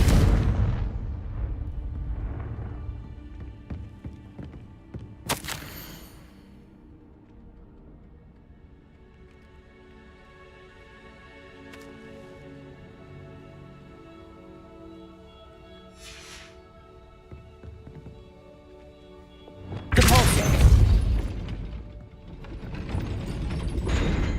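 Confringo fire spell in the game Hogwarts Legacy, a loud burst at the start and a sharp blast near five seconds, a quiet humming stretch with faint mechanical clicks, then a big rumbling explosion near twenty seconds.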